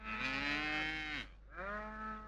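Buffaloes in a village setting give two long, loud moos one after another, deep and drawn out with a brief pause between, close by and with no talk.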